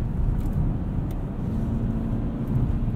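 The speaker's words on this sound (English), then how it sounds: "This is actually my first drive in a four-cylinder Camry with this latest refresh" Steady low rumble from inside a 2020 Toyota Camry AWD XLE with its four-cylinder engine, cruising on the road with constant road and engine drone throughout and no voices.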